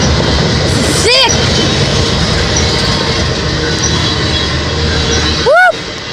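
A CSX coal train rolls steadily past in Springfield, Tennessee, its continuous rumble broken by two sharp, ringing wheel squeals, one early and one near the end, while people nearby cheer.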